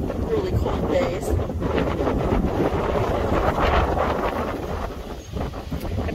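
Strong, chilly wind blows outdoors on a homestead. It is a dense, continuous rushing roar with microphone buffeting that stays loud and steady throughout, dipping only slightly near the end.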